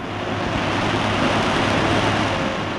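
Steady, dense roar of the Rhine Falls waterfall near Schaffhausen, broadband and unbroken throughout, loud and close with no pauses or voices.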